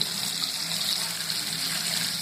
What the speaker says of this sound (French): Là ensuite il suffit juste de passer tout ça au robinet.